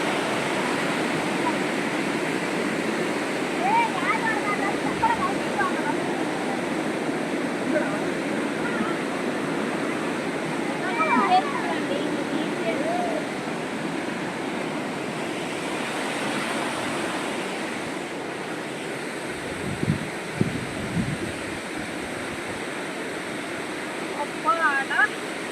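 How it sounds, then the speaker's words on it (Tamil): Koraiyar waterfall at Pachamalai in Tamil Nadu, a loud continuous roar of falling water with wind buffeting the microphone, steady for the whole stretch. "இதான் கோரையார் அருவி."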